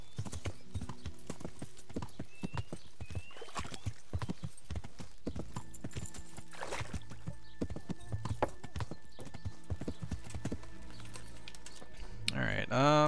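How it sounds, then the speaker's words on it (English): A horse ridden through Kingdom Come: Deliverance beats out steady, moderately loud clip-clopping hoofbeats. The sound ends in a louder burst of commotion that could be a neigh. "Jumping over the hedgerows with a horse."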